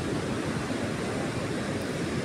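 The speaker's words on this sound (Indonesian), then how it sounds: "berkali-kali kena sapuan ombak di pantai" Ocean waves break and wash up on a beach in a continuous, loud roar of surf with no voices.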